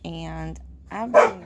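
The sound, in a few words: dogs barking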